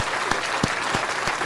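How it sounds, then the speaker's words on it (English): Audience applause welcomes podcast guest Vanity Constance, a brief, steady patter of many hands at moderate volume. "I'm going to give her a round of applause"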